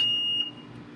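An aerobic septic system alarm, signaling a possible air pump failure, sounds a steady high-pitched tone continuously, cutting off partway through, over a low background hum.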